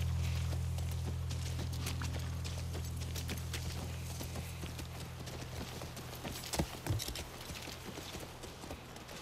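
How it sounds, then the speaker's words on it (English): Steady clip-clopping of horse hooves at a walking pace in the video game The Last of Us, close and continuous, over a low engine-like hum that fades midway. "That's our horse."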